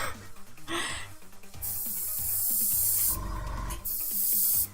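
An airbrush spraying Acryla gouache paint onto a gingerbread figure indoors, in bursts of close, loud hissing separated by short pauses, with some breathy background sound between them.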